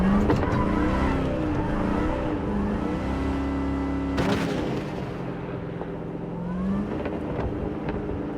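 A car driving in Cyberpunk 2077 2.0 on Xbox Series X: a steady, close engine drone shifts pitch as the car revs and eases off, with a brief sharp knock partway through.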